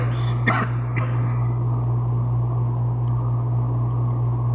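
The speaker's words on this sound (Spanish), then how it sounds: "perdón, hermano, la tos está iniciada" A man gives a short burst of coughs near the start, close and fairly sharp, then quiet room tone with a steady low electrical hum underneath for the rest.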